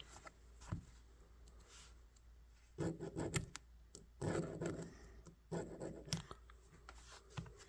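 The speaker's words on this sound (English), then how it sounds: "So let's just scrape on them just a little bit here. See what we can get scraped off." Heavily rusted metal is scraped after treatment with Rust-Oleum rust-removal gel, giving several short, rough rasping strokes in bursts with quiet gaps between them, close up.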